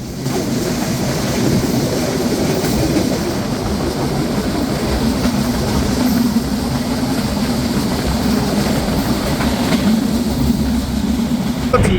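Intercity Rangpur Express train passing close by on a Bangladeshi line, a loud, steady rumble of wheels and carriages that holds unbroken for the whole twelve seconds.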